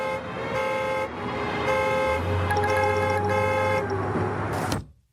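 In a cartoon traffic scene, a vehicle horn blares loudly and keeps going as a tonal honk, sounding in sustained blasts over a low engine rumble. It stops abruptly near the end.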